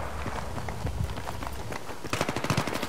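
Rapid bursts of F2000 rifle fire in Battlefield 3, with quick repeated shots in fast rhythmic strings that grow denser near the end, mixed with footsteps and running in the game.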